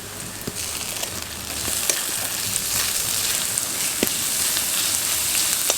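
Onions frying in a pan for a Bengali chicken samosa filling, a steady close sizzle and crackle with occasional stirring clicks, no talking.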